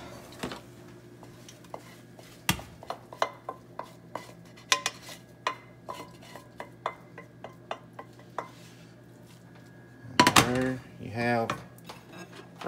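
Scrambled eggs are scooped from a pan onto a serving plate, giving a run of light, evenly spaced clinks and taps of utensil on cookware, then a louder cluster of scraping near the end.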